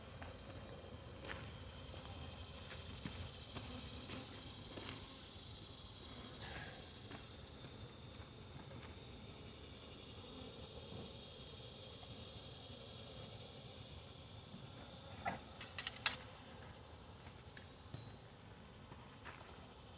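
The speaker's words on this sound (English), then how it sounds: "the bees are getting louder and louder" A soft, steady drone of honey bees at a hive hums throughout, with scattered faint clicks and a few brief rustling bursts near the end.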